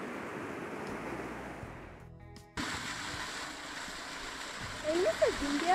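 Small mountain streams running through páramo in Cajas National Park in Ecuador, a steady rushing flow of water with a brief dip partway through, and a voice talking over it.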